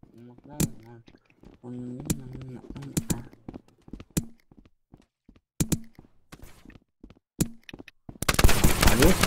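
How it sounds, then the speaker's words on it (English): Video-game gunfire in Rec Room: short sharp bursts of shots, scattered and close, mixed with people talking, ending in a dense noisy stretch. "Can you stop shooting?"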